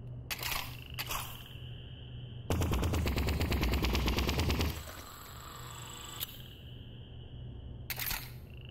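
Upgraded sniper rifle in a virtual-dome shooter game, sounding as a sharp single report followed by a loud, dense burst of rapid mechanical shots lasting about two seconds, with other crisp clicks and shots scattered around it over a steady game hum.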